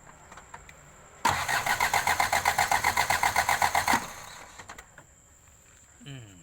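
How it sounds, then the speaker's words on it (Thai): Cranking of a Mazda BT-50 WL-C common-rail diesel with an injector line opened on cylinder one, a loud rhythmic starter churn lasting nearly three seconds before cutting off, with quieter workshop sounds around it. "เดี๋ยวขอ ลองดูแรงน้ำมันที่พ่นออกมา จากแป๊บหัวฉีดสูบหนึ่งดู"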